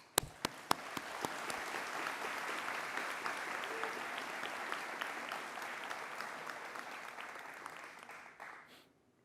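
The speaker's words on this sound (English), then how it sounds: "Let us give all of them a big applause." Graduation ceremony audience at a university commencement breaks into applause, starting with a few sharp claps that swell into steady crowd clapping before fading out at the end.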